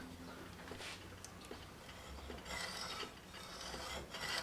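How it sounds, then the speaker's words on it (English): Hacksaw cutting into an Opel GT gas cap, with short rasping strokes near and fairly loud, repeated in an uneven rhythm over a few seconds. "Now we'll just use this hacksaw and see if we can't duplicate it."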